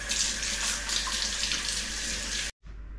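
Hands and a bowl washed under a running kitchen tap: a steady, close splash of flowing water that stops abruptly near the end, then resumes more faintly.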